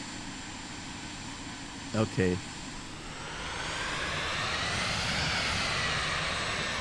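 A fixed-wing aircraft's engine in the Microsoft Flight Simulator game drones steadily and swells into a louder, sustained roar as it powers up for takeoff, and a voice speaks briefly over it.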